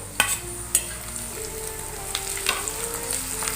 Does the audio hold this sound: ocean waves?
no